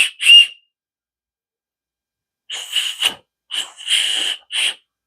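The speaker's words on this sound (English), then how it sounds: "a whistle." A plastic emergency whistle from a first aid kit is blown in short shrill bursts: one near blast, a pause, then several quick toots in succession, loud and alone.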